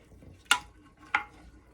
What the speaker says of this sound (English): all you have to do today is just give them a wee bit of a stir